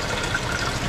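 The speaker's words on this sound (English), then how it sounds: "The water running." Water running into a sailboat's tank, a steady close rushing and gurgling flow at constant level with no voices.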